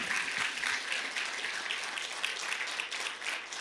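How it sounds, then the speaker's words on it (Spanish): A church congregation applauding at a family service, dense, steady clapping that fills the room without a break, with a faint voice beneath it. "Dale un fuerte aplauso a Jesucristo."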